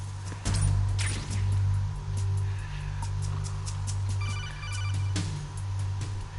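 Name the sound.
phone ringing in the video game Metal Gear Solid 2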